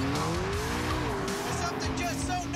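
A McLaren MP4-12C V8 howls at high revs with rising and shifting engine tones, tires squealing alongside, loud and close under a speaking voice.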